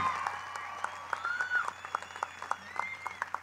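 A commencement ceremony audience applauds from a distance, scattered claps rising and falling over a steady hall hum with a faint voice underneath.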